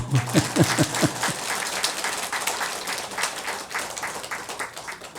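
Audience at a Buddhist Dharma talk at a temple applauds on cue, opening with a few distinct claps that merge into steady, moderately loud applause carrying on to the end.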